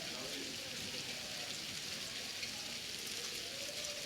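Steady rain pours down outdoors during a lightning storm, a dense, even hiss of drops hitting the ground and surfaces, close and continuous without a break.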